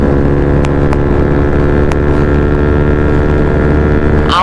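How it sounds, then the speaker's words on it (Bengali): A motorcycle engine held at full rpm during a group Republic Day ride, a loud, steady high-pitched drone with strong harmonics and a few sharp ticks, wind and road noise underneath. "বনদা ফুল আরপিএম দিয়ে বেরিয়ে যাচ্ছে"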